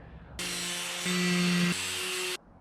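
Power tool cutting for intercooler pipes on an S14 drift car, a loud close whining buzz that starts abruptly, shifts pitch twice as it bites into the material, then stops after about two seconds.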